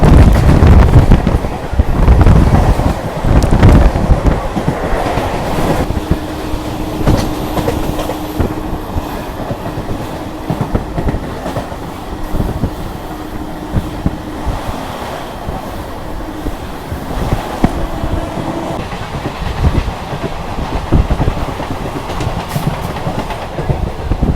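A fast local train on the Barddhaman to Howrah line pulls away from Balarambati station, its steady loud rumble and rhythmic clickety-clack mixed with wind buffeting, carrying on without talk.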